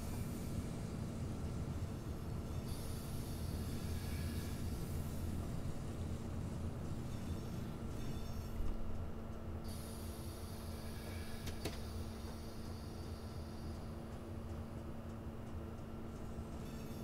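A train in Train Simulator 2020 (Kiel–Lübeck route) rumbles steadily at low volume while slowly entering a station, a continuous mechanical drone with a faint high whine, gradually easing with no voices.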